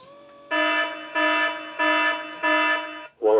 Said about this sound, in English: the idea is when the Biffy door closes, it activates the transmitter, and our alarm box over here at the operations area does this